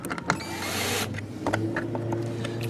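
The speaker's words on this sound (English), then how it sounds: "we're just going to use a drill, make sure that it's all the way through the plastic" A drill bores through the plastic of a kayak fish finder mount, whirring steadily and close for about a second before easing off, with lower machine hum continuing afterward.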